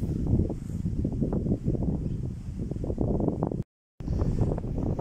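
Strong storm wind on the bank of the Amur river roars in a dense, low, buffeting rumble against the microphone, gusting unevenly and cutting out for a brief moment before resuming, with no talking.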